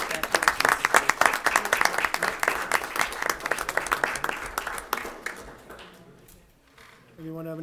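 An audience at a school committee meeting claps in a dense burst of applause that thins out and fades after several seconds, followed by a short spoken remark.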